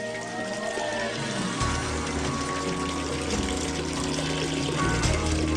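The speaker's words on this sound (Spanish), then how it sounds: "El agua fluye a lo largo de este conducto durante 1 kilómetro hasta llegar al castillo." Water runs steadily through an ancient stone aqueduct conduit leading toward a castle, a continuous close gurgling flow with a low hum beneath it.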